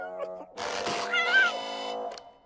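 A cartoon cat gives a drawn-out, wavering meow that rises and bends in pitch before trailing off, fairly close and clear, with brief voice sounds just before it.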